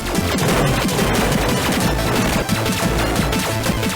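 Dense, continuous gunfire in the video game Iri shooting down floating debris, a loud rapid crackle of shots and splintering impacts with no pauses.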